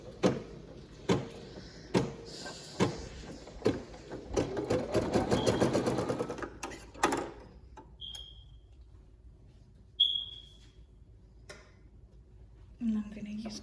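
A Brother PE800 embroidery machine stitches an appliqué, running in fast repetitive bursts with clicks and thumps between them, close by, with brief quiet stretches and soft talk at times.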